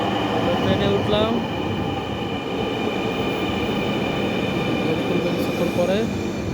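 Steady rumble and rattle fill the cabin of a moving metro train, with occasional wheel squeals and a faint voice or two under the constant rail noise.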